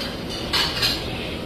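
Plates and cutlery clink briefly at a Japanese restaurant buffet in Davao City, a short pair of close clatters over steady room hum, no talking.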